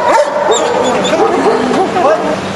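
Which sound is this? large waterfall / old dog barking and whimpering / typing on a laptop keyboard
old dog barking and whimpering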